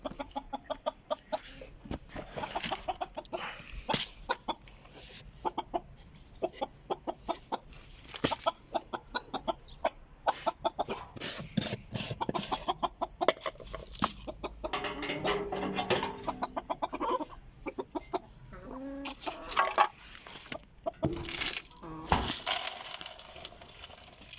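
Backyard chickens clucking in a coop, many close, irregular clucks and squawks scattered throughout, with rustling and clattering of feed and movement between them.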